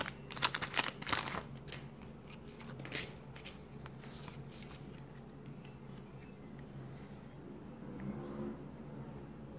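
Pokémon XY11 trading card booster packs being torn open and handled, with crinkly foil rustling and quick card-flicking clicks that are busiest in the first seconds, then a softer, steady shuffle.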